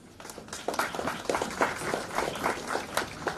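An audience at a one-day water supply workshop claps in a brief burst of dense, steady applause from many hands in a hall, rising slightly and holding throughout.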